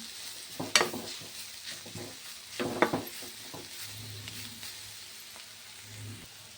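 Shredded cabbage is stirred and fried in a pan, with soft sizzling under a few sharp spoon scrapes against the metal, gentle and close with no talking.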